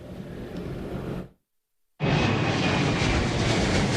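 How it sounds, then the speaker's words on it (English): An airplane takes off at Reagan National Airport, a broad, steady engine roar that cuts out briefly, then returns louder and keeps roaring close by. "Whether it was a plane taking off for Houston or one landing from White Plains, New York"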